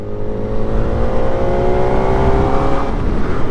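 Superbike with a 16,000 rpm engine in fifth gear at low revs, pulling steadily under light throttle; a loud, continuous engine drone with rising tonal harmonics and heavy wind rumble, no talking.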